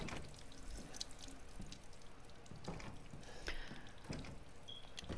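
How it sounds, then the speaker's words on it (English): Water left running in Resident Evil Village, a faint steady trickle and splashing with scattered drips and small clicks, quiet and somewhat distant, no voices. "And that water is still running."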